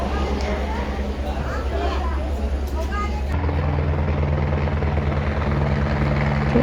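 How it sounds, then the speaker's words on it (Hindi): A helicopter's steady rotor thump and engine roar fill the air at a helipad on the way to Vaishno Devi, loud and continuous, growing slightly heavier partway through. "ये देखिए हमारा हेलीकॉप्टर आ गया है"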